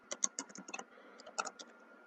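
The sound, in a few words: typing code on a computer keyboard in Unity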